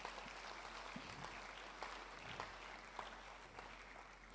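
Congregational applause at a church Easter teaching seminar, a steady dense clapping that holds for several seconds at moderate distance, with scattered faint voices mixed in.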